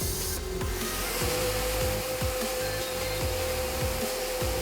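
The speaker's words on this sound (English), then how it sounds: "In today's example, we are vacuuming stainless steel powder. To do this, we switch on the wet separator." A RUWAC industrial vacuum running with its wet separator on while sucking up stainless steel powder, a steady loud motor roar and whine with a periodic low rumbling pulse, no voices.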